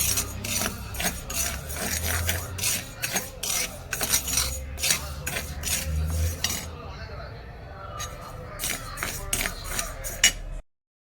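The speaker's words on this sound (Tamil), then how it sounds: "அடுத்து ஒரு கப்பு பாசி பருப்பு போட்டு வறுக்கிறோம்" Split moong dal dry-roasting in a pan, a steady run of dry scraping, rattling and clinking as a spatula keeps the lentils moving, close and fairly loud, then quietening toward the end.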